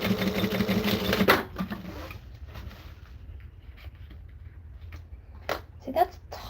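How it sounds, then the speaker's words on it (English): Sewing machine top stitching leather, a short burst of dense rapid stitching up front, then a quiet room with scattered small clicks and handling noises. "my machines don't like top stitching it"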